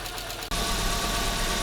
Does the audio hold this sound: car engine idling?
yes